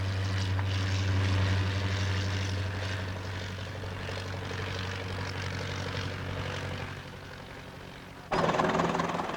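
A propeller airplane drones steadily overhead with a strong, even engine hum that shifts near the end into a louder, rougher roar.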